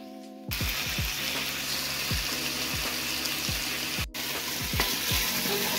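Hot seasoned oil sizzles steadily in a pot as it is stirred for a lamb stew, with a loud continuous frying hiss and repeated scraping strokes of the spoon, close up and without talk.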